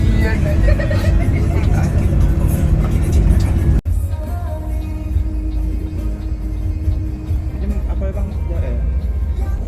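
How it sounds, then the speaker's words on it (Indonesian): Intercity bus on a toll road between Jakarta and Palembang, a constant low engine and road rumble heard from inside the cabin, with a brief dropout partway through and faint voices in the background. "Jam 8:41 bus melanjutkan perjalanan, dan kali ini busnya via tol ya teman-teman"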